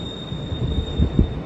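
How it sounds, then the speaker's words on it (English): A train passes through a tunnel below an Appalachian Trail lookout. It is a faint, distant low rumble with soft rhythmic thumps of wheels on rail, and no voices over it. "I want to just show you the train going by."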